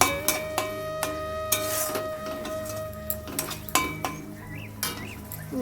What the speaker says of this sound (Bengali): এবার আমি সসটা দিয়ে দিয়েছি, এই যে দিয়ে এবার একটু ভালো করে কষিয়ে নেব।